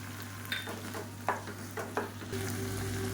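Tomatoes sizzle and are stirred in a frying pan while a South Indian side dish for idli and dosa cooks, with a steady hiss and a few sharp scraping clinks from the stirring.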